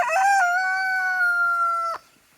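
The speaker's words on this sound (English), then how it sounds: "Chubby Cheeker, my daughter's chicken, right there." A backyard chicken kept beside egg layers lets out a single drawn-out, tonal call, close and clear, lasting about two seconds before falling quiet.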